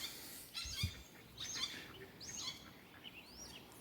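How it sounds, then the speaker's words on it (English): Crows calling in harsh, scattered bursts while chasing a hawk over a shaded garden, moderately distant outdoors with light background noise. "We got a hawk being chased by these crows."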